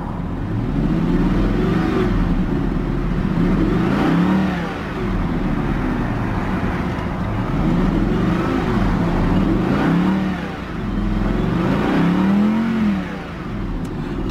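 A 2017 Audi R8 5.2 V10 Plus idles and revs through its exhaust, a loud, deep engine drone rising and falling in several rev swells, close by with no talking.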